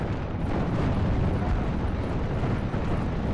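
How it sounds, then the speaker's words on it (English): Mortar shells pound an anti-tank gun in the Normandy 1944 strategy game Steel Division, a dense continuous rumble of overlapping explosions, loud and steady throughout, no voices. "AT gun on the left is now being targeted by the mortars"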